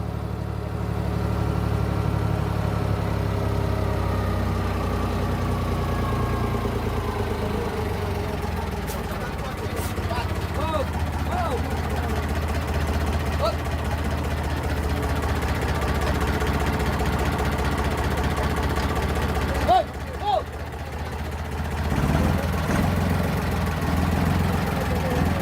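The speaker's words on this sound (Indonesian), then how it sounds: "sepertinya gerbong-gerbong ini akan ditarik oleh lokomotif kecil" A small diesel locomotive idling with a low steady throb while hitched to passenger wagons at a sugarcane plantation, heard up close, with someone talking over it and a brief clank partway through.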